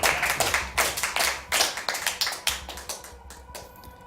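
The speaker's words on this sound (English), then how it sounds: "Give a cheer." A crowd at a live StarCraft 2 tournament match cheers and claps loudly in dense bursts, the applause swelling and easing in waves before thinning out toward the end.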